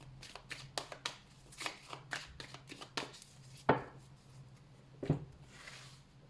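Tarot cards shuffled by hand in a quick run of crisp riffling flicks, then two louder slaps as the deck is squared, close and clear with no talking.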